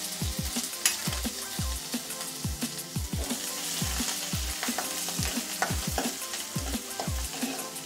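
Steady sizzling and crackling of ginger-garlic paste frying in hot oil, with regular scraping stirs against the pan, close and continuous.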